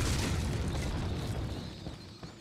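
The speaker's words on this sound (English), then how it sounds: "That bitch just blew herself up" An enemy blowing herself up in Resident Evil 4, a loud deep boom that rumbles and slowly decays with scattered debris clatter, no voices.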